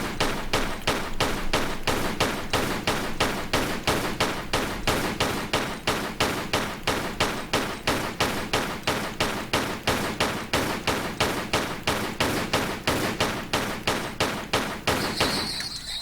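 Pistols firing nonstop in a Tomb Raider level-editor game, a steady rapid train of sharp, evenly spaced shots, about three per second, loud and close for the whole stretch with no talking.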